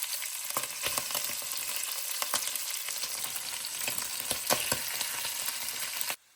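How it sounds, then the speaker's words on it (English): Shin of beef browns in a Dutch oven with a continuous close sizzle, sharp pops and crackles and occasional stirring, no talk, cutting off abruptly at the end. "pop that into the Dutch oven as well. Can you hear it? Just to brown and seal this meat"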